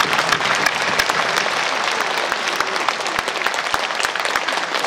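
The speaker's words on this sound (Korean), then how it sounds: "여러분 박수 한 번만 보내주세요." An audience at a book-launch event in Naju breaks into loud, sustained applause, a dense wash of many hands clapping steadily with no pauses.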